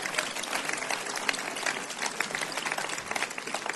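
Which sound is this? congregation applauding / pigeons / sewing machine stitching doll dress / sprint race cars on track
congregation applauding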